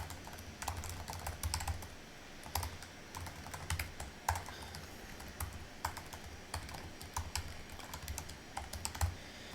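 Steady typing on a computer keyboard, with quick irregular key clicks and occasional louder taps running continuously, close and fairly quiet.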